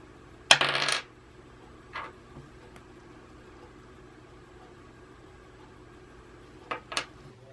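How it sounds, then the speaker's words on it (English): An eight-sided die (d8) is rolled on a hard surface: a sharp, close clatter of about half a second, a single small tap a second later, then two quick clicks near the end over a quiet low hum, with no talking. "when I rolled my d8, I got a 2"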